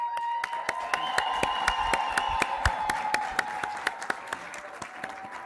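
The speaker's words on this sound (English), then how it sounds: "acknowledge your family members and friends and supporters through a round of applause" Graduates applauding their families and supporters at a 2025 college graduation, a broad wash of crowd clapping with a few sharp, rhythmic individual claps standing out, steady and fairly close throughout.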